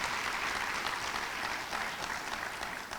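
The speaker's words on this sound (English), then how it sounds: "Why don't we give ourselves a round of applause" Audience at a university Martin Luther King Jr. celebration applauding, a dense even wash of clapping that stays steady for a few seconds, moderately loud with no talk.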